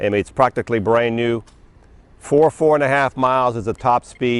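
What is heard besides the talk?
No distinct noise like a dog, phone or traffic.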